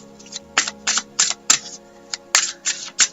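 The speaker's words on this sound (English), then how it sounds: "Let me shuffle away here." A deck of oracle cards is shuffled by hand close up, giving a series of crisp riffling bursts in an irregular rhythm with short pauses between them and a faint steady hum behind.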